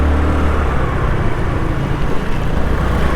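A 2010 Honda Activa 110cc scooter rides along, its engine hum blended with loud, steady wind rush and road noise, continuous and close throughout.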